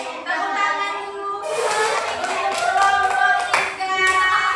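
Students in a classroom clap hands together, a busy burst of claps starting after a moment of voices and continuing with some chatter and laughter mixed in.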